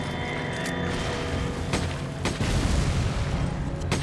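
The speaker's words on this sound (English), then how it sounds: "A lot of explosions in this one." Explosions go off in the Resident Evil 5 video game, heavy booming bursts over a dense, noisy game soundtrack, with sharp hits near the middle of the clip.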